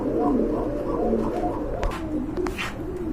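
A pair of Lahori pigeons coo nearby in soft repeated rolling calls, steady over a faint background rumble, with some light rustling near the end.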